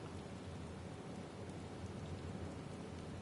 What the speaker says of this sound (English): I mean, it's rain.